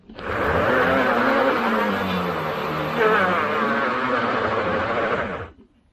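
The engine of a Vakole C020 motor cultivator revving hard, a loud sustained buzzing drone with a rising pitch shift midway, cutting off sharply near the end.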